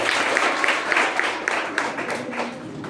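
A group of children claps together in steady, slightly ragged applause with a faint murmur of voices behind it.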